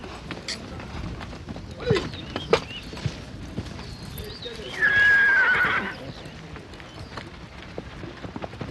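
Army horses give a sustained whinny near the middle, with brief hoof clatter and scattered thuds earlier, over a steady outdoor background while a voice talks.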